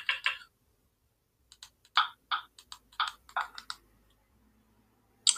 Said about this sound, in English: I keep typing the same stuff in.